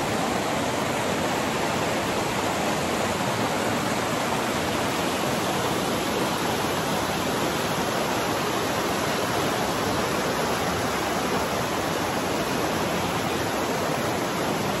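River water flowing at Guelatao, Oaxaca, a steady, dense rush like a small waterfall or fast stream that holds constant throughout with no voices.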